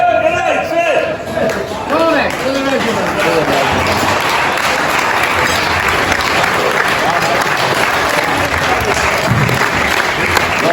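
An audience at a Munich Memorial event applauds director Patrick Burns, loud sustained clapping and crowd noise while someone speaks over it through amplification.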